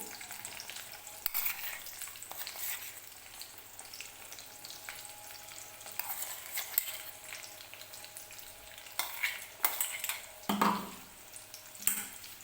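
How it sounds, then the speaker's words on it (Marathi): Brinjals sauté in oil with a ground spice paste containing roasted garlic, giving a faint, low sizzle broken by intermittent stirring clanks and scrapes that grow more frequent toward the end. "वाटण टाकून घेऊन व्यवस्थित वांगी आपल्याला परतून घ्यायची आहेत"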